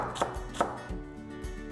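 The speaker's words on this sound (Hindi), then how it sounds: "और उसके बाद आराम से इसे यूं हम चॉप करेंगे।" Knife chopping through cabbage on a board, a few sharp close thuds spaced irregularly with quieter cuts between, no voices.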